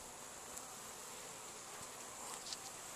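Honeybees buzz on hive frames in a Georgia hive, a faint, steady insect drone with a few individual bees passing closer.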